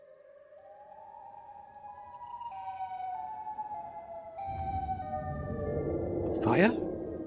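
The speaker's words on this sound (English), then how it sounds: "why is there a siren being played?" A siren wails in layered rising and falling tones, growing louder over several seconds with a bright sweeping burst near the end, with a voice speaking over it.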